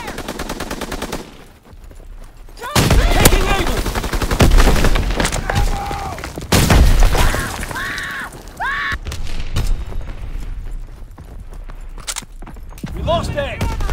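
Tank cannon and rapid gunfire in Call of Duty WWII rattle in loud close bursts with heavy booms and bullet cracks, mixed with shouting soldier voices and radio-style callouts.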